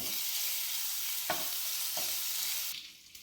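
A spoonful of garlic paste sizzles steadily in a pan for a dhaba-style onion sabji, with two brief scrape-like stirs before the hiss fades near the end.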